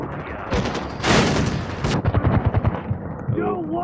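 Shotgun blasts in Far Cry 4 gameplay, a cluster of heavy booming shots with rapid follow-up gunfire, loud and close amid dense game noise.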